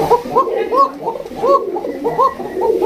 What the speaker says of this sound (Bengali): এখানে রয়েছে একটা ব্ল্যাক কালারের সিরাজি কবুতর দেখতেই পাচ্ছেন